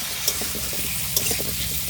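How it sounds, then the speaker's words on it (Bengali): Taro fries in a pan and gets stirred, a steady sizzle broken by a few scraping stirs. "গাঁটি কিন্তু বন্ধুরা খুব সুন্দর ভাজা হয়ে গেছে"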